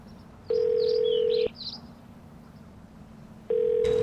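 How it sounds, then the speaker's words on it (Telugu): An unanswered phone call produces a steady ringback tone in two long, evenly spaced buzzes, heard clearly over quiet background hiss. "ఏం మామ ఫోన్ ఎత్తుతలేడు."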